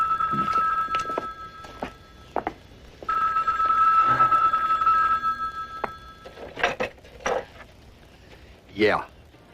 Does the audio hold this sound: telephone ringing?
yes